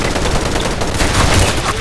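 Dense, continuous SKS rifle gunfire in a first-person shooter game, with rapid overlapping shots and blasts filling the short stretch at constant high loudness, with no gaps.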